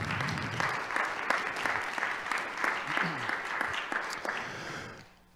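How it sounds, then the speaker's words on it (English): An audience at a talk on voting applauds, with a steady round of clapping from many hands and some voices underneath, fading out quickly near the end. "Would you please give everyone a round of applause?"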